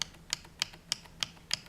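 Six evenly spaced keypresses on a Redragon Karura keyboard, each a crisp, close tap at an unhurried, regular pace, with quiet low hum in between.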